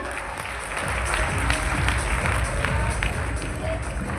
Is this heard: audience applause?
yes